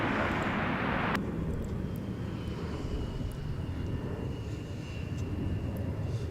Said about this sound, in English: we have a United E175 passing by us